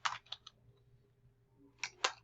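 Typing on a computer keyboard, a few quick clustered key clicks at the start, a quiet pause, then two more sharp clicks near the end, close and fairly soft.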